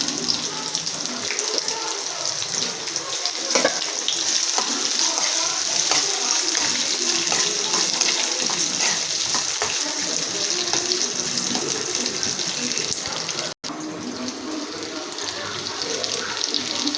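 Onions fry in a pan with a continuous, even hiss of sizzling oil that holds steady throughout, cutting out for a moment near the end before resuming.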